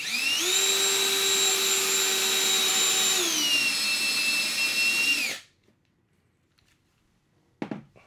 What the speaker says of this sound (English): we'll just drill this out.